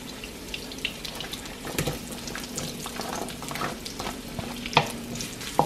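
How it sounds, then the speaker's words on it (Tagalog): Garlic and onion sizzle in a hot pan, a steady frying hiss with occasional stirring scrapes and small pops, close and continuous without talk. "just saute the garlic and onion together"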